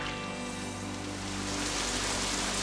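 Rain pours in a French cartoon as a dense, even hiss of falling drops, constant and close for a few seconds, with nobody speaking.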